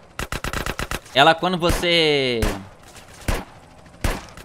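Desert Eagle pistol fire in a remastered first-person GTA San Andreas opens with a fast burst of loud, close shots, then someone speaks over a few further single shots.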